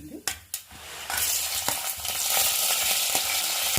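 A spoon stirs chana dal and ravva into upma with onion, green chili, ginger and curry leaves: scraping clicks on the pan over a steady, growing sizzle of frying, close and fairly loud.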